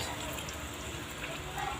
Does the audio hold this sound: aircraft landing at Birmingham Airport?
no